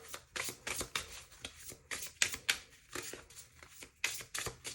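Love Story Oracle cards being shuffled by hand at close range, a quiet, rapid series of riffling and flicking bursts with an uneven rhythm, with no voices.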